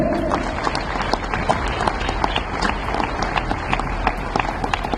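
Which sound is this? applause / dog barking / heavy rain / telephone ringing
applause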